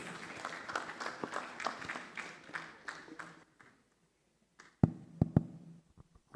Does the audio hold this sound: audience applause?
yes